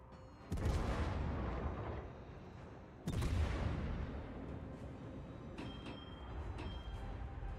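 Naval gun salvos in World of Warships, two loud booming shots with long rumbling decays, followed by fainter distant thuds.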